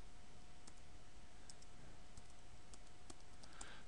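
Keys clatter on a computer keyboard in a quiet office while an Exchange Server 2010 public notes folder is named, a sparse run of soft clicks followed by an enter keystroke near the end, with a faint steady hum beneath.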